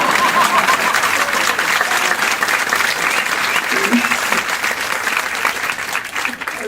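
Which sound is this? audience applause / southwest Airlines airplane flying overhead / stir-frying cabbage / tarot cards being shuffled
audience applause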